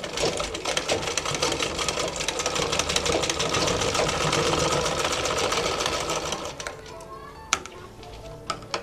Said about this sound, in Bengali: রেখে আমি একটা সেলাই করে নিব।